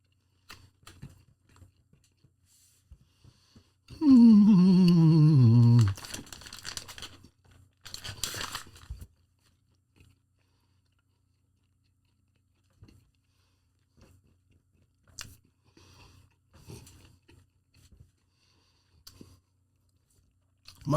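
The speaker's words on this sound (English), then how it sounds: "Man, this one is chewy." Spicy beef jerky being chewed near the mic, with soft, irregular crunching and tearing bites spread across the stretch. A loud growling vocal sweep and a brief rough burst break in partway through.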